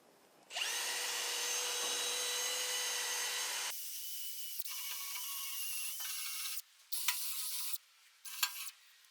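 A power drill with a wire brush whirs with a harsh, scratchy grinding against a dump truck's metal fuel tank, running in several bursts with short pauses between them.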